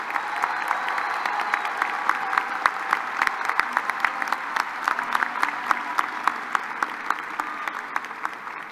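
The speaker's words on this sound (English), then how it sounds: "Please join me in applauding the candidates from the College of Engineering." A university commencement audience applauds the College of Engineering candidates at a fall graduation ceremony, a steady, dense wash of clapping from a large crowd that holds evenly throughout.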